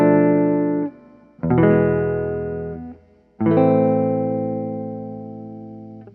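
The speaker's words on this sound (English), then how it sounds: "The same progression I played before in major would sound like this in a minor key." A chord progression in a minor key played on a sustained, slightly distorted keyboard or synth tone, three long chords that each swell and slowly decay, loud and alone with no talking.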